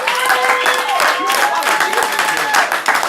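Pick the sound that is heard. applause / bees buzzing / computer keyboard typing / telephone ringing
applause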